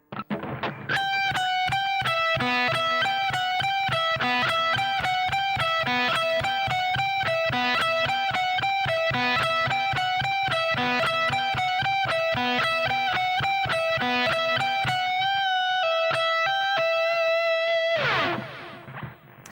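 Distorted electric guitar with effects plays a fast, repeating solo phrase from a song, evenly picked notes ringing loud and alone before stopping abruptly near the end.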